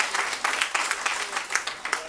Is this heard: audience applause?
yes